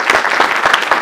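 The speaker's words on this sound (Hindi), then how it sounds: "जोरदार तालियां बजाकर आप स्वागत करें" An audience at a Basant Panchami school program claps loudly and continuously to welcome the chief guest, the dense applause close and full with rhythmic surges.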